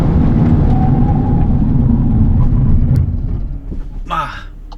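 A Golf 8 R decelerates under hard braking, its loud low engine and road rumble fading after a few seconds, and a voice speaks briefly near the end.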